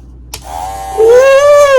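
A gold limited-edition Andis Cordless Master hair clipper is switched on with a click and starts up, its motor hum rising and settling into a loud, steady buzz close by.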